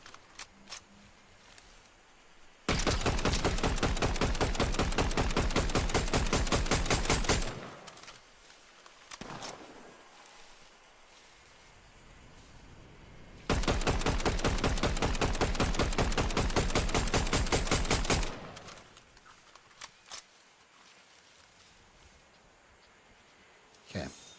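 Rapid automatic gunfire from the Fortnite video game, two sustained bursts of several seconds each separated by quieter gaps with occasional single shots, loud and close.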